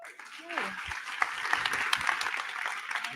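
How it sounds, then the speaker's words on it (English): After a brief bit of speech, a meetup audience breaks into loud applause for a co-host, a steady wash of clapping with a few sharp claps standing out. "I'll just get all of you to just give a really loud round of applause for Alex Norman."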